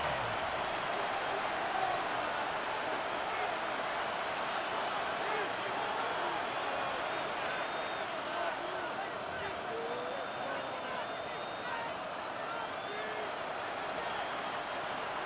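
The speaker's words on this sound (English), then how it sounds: "The Buffalo crowd being heard before 3rd down." A Madden 26 stadium crowd in Buffalo, during a Bills versus Patriots franchise game, roars before a third-down snap: a loud, steady wash of crowd noise that holds without a break from start to finish.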